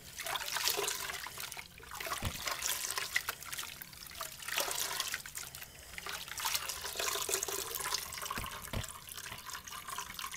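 Cloudy wig wash water being dumped out of a container, a continuous splashing pour with gurgling surges that rise and fall, close and fairly loud.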